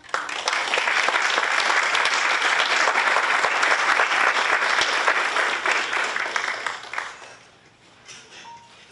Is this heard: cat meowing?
no